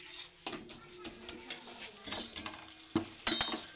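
A spice paste is stir-fried in a pan: a soft sizzle runs under repeated spatula scrapes and light metallic clinks against the pan.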